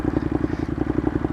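A 2015 Ducati Monster 821 with its stock factory exhaust idles with a loping, pulsing burble, a rhythmic low throb of evenly spaced beats that is moderately loud and close.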